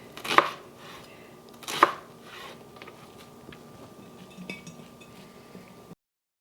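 Knife slicing horseradish on a board: two crisp, distinct cuts close by, followed by quieter small taps and handling sounds before it stops, no talk.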